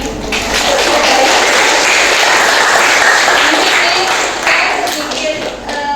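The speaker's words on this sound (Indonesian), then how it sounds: "Berikan tepuk tangan untuk kedua kelompok" Audience applause for two student discussion groups after their presentation in a classroom session, a dense steady wash of many hands clapping throughout, fairly loud and close, tapering slightly at the end.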